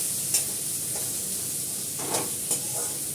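Nigella seeds and chopped onion sizzle in hot mustard oil, a steady close hiss broken by a few sharper stirring scrapes.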